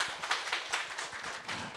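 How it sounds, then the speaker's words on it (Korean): A church congregation applauding together, steady, dense clapping from many hands that fills the room at moderate volume. "네, 박수."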